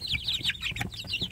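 Village chicks eat together and jostle for food, peeping and cheeping in quick overlapping bursts nearby, with faint pecking and shuffling underneath.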